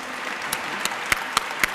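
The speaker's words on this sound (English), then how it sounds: "let us give them all a round of applause" Audience applause at a League of Women Voters of Wisconsin event marking the 60th anniversary of the Voting Rights Act, a soft steady patter of clapping with a few sharper individual claps standing out near the end.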